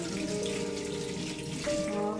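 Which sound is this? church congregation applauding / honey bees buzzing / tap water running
tap water running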